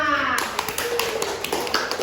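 Students and teachers clapping together at a national micro-teaching competition held at an Islamic primary school, dense rapid hand claps after a brief voice at the start, close and steady for about two seconds.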